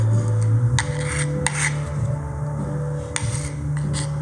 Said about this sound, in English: So just get a good scraper, scrape it up, and then you can rinse it away.